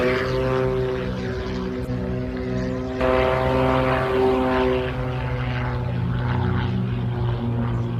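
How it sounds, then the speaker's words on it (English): French Air Force aerobatic team aircraft make a final pass at an air show, a loud continuous engine drone with steady tonal hum that swells midway and stays close. "This was the French Air Force aerobatic team freestyle display."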